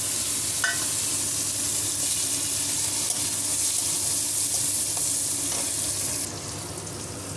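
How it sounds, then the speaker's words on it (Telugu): Brinjal pieces fry in hot oil for a masala curry, a dense, continuous sizzle close by with occasional stirring clatter, easing slightly near the end, no talking. "ఈ వంకాయలన్నీ వేసేసుకున్నామండి ఆయిల్లో."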